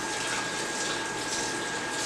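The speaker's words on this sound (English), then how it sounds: "Wash my hands up." Steady rush of tap water running while hands are washed, a constant close splashing flow throughout with no talking.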